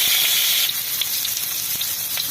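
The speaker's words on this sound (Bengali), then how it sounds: "আলুগুলোকে এবারে ভাজা ভাজা করা হবে।" Potatoes frying in hot oil in a pan, a steady close, loud sizzling hiss with faint crackles and pops scattered throughout.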